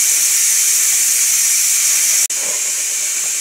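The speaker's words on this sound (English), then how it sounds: "I'm going to release the pressure" A multi cooker vents its pressure in a loud, steady hiss lasting the whole stretch, broken by one sharp momentary dropout near the end before the hiss resumes.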